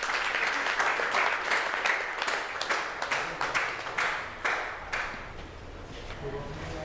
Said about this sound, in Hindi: आइए, जोरदार तालियां हो जाए इनके लिए।